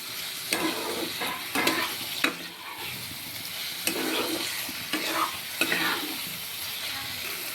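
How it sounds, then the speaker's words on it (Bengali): Fried potatoes and pointed gourd sizzling in a spice mixture in a pan, stirred with repeated scraping strokes every second or so over a constant close frying hiss. "এবার এই মশলার মধ্যে ভেজে রাখা আলু আর পটল দিয়ে দিব। আলু পটলটাকে দিয়ে আরও একটু কষিয়ে দিব।"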